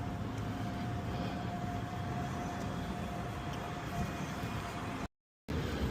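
Steady low rumble of a Calgary C-Train light rail train rolling past along 7th Avenue downtown, continuous and fairly close, with a faint tonal hum over broad street noise.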